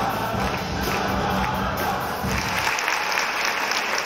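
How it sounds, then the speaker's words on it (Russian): Concert audience in a large concert hall in Kazan applauding a medley led by a state choir director, with sustained loud clapping and crowd noise; music fades out partway through while the applause continues. "Зритель подпевает и встречает попурри аплодисментами."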